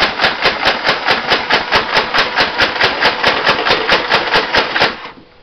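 A modded motorized Nerf Vulcan EBF-25 toy gun fires darts in a rapid, evenly spaced burst of about twenty loud mechanical thumps, close up, with the motor whirring down at the end.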